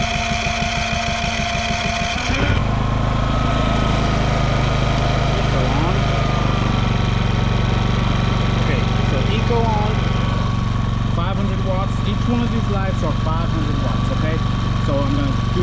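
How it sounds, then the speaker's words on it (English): A Predator 5000W dual-fuel inverter generator runs in eco mode after a short startup burst, then settles into a loud, steady, even engine hum with a low drone. Faint background sounds rise briefly toward the end. "first test, just the generator by itself in eco mode."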